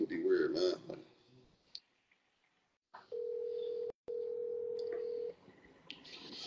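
A phone call is placed while booking truck freight loads: brief speech, a few clicks, then a steady electronic line tone holds for about two seconds, briefly interrupted, before quieter sounds return.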